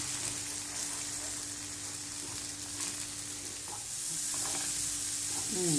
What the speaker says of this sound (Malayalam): ഒന്ന് പച്ചമണം പോകുന്നവരെ ഒന്ന് വറക്കണം